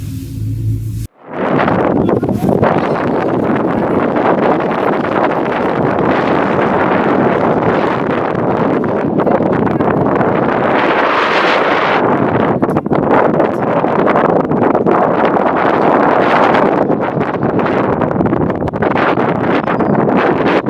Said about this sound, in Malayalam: ഇവിടെ ഭയങ്കര കാറ്റാണ് കേട്ടോ.